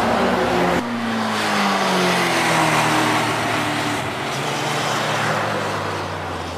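A car roaring around the Nurburgring carousel, its engine droning loud and steady throughout, close and continuous, with a sudden gear change near the start and the pitch easing down afterward.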